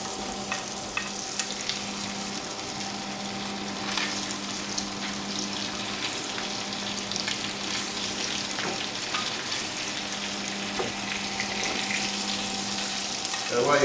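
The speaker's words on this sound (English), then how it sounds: "And while you're cooking it, keep basting it with the butter." A rack of lamb frying in a pan while being basted with butter, a steady close sizzle with spattering crackles and occasional spoon scrapes throughout, fairly loud and continuous.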